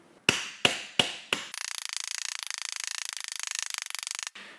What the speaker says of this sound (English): I'm going to use a caulking tool that will allow me to focus my hammering force into a smaller area.